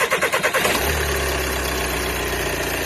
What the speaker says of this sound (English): So go ahead and start it up. Let's hear it run now.